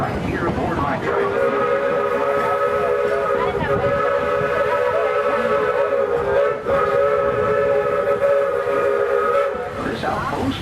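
The Walt Disney World Railroad train sounds a long, loud steam whistle that holds steadily for several seconds over the rumble of the moving cars, with a brief dip before it continues and fades.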